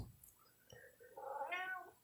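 A cat meows once in a quiet room: a soft rising, drawn-out cry that swells toward the end, preceded by a few faint thumps and light rustles.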